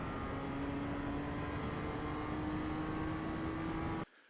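A BMW M2 on the Daytona track holds a steady engine drone through a corner at part throttle, the pitch rising slowly, then cutting off abruptly near the end.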